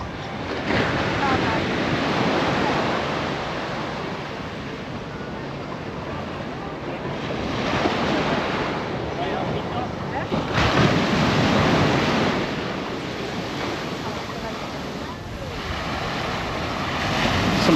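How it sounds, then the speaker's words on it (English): Surf rolling onto Pebbles Beach at the edge of Bridgetown, Barbados: a steady wash of breaking waves with wind buffeting the microphone, swelling in louder surges every few seconds, continuous and fairly close. "let's have a quick look at Pebbles Beach, just on the edge of Bridgetown, Barbados"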